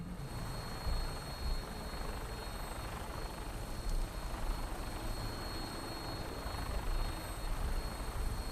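An aircraft drones steadily in flight in the game Fallout 4, a continuous loud rotor-like engine roar with a thin high whine above it, unbroken and with no voices.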